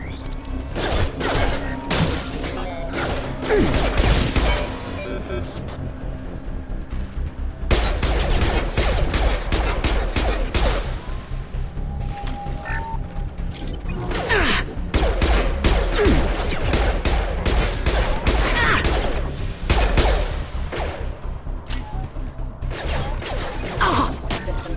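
Sustained weapons fire in Mass Effect 2, dense bursts of shots and mechanical clatter pounding almost without pause, loud and close, with brief lulls between volleys.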